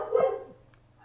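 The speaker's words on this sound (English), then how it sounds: "Shut up, dog." A dog gives one short, fairly loud bark right at the start, then quiet follows with a faint blip of sound near the end.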